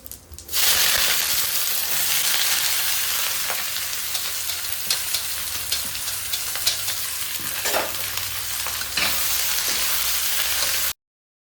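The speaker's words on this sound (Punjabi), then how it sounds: "ਜਦੋਂ ਤੇਲ ਤੁਹਾਡਾ ਪੂਰੀ ਤਰ੍ਹਾਂ ਕੱਢ ਜੇ ਜੀ ਇਹਦੇ ਵਿੱਚ ਜੀਰਾ ਪਾ ਦੇਣਾਗਾ ਜੀਰਾ ਪਾਣ ਤੋਂ ਬਾਅਦ ਤੁਸੀਂ ਨਾਲ ਦੀ ਨਾਲ ਇਹਦੇ ਵਿੱਚ ਪਿਆਜ਼ ਪਾ ਦੇਣੇ ਨੇਗੇ" Onions and cumin seeds fry in hot oil with a loud, dense sizzle that starts abruptly and holds steady, broken by scraping stirring strokes, then cuts off at the end; no talking.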